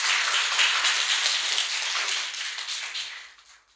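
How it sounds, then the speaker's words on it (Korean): A church congregation at a Sunday service claps together to welcome two guests, a steady broadband patter of many hands close by that holds for a few seconds, then thins and fades out. "잠깐만 일어나 주면 우리 박수로 환영하겠습니다."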